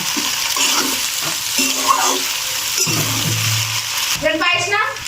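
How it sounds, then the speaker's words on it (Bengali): Crumbled fried egg stirred through chicken pasta in a pan, a steady wet scraping and soft sizzle running under a voice speaking throughout. "এবার সব কিছুর সাথে মিশিয়ে নিব।"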